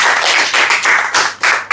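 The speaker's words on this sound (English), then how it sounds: "Please clap for Professor if you are happy." Audience clapping for a professor at a garment technology competition in Ghana's Volta Region, loud close burst of many hands clapping in uneven pulses with short dips between.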